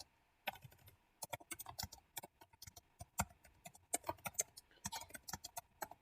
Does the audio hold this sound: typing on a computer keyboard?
yes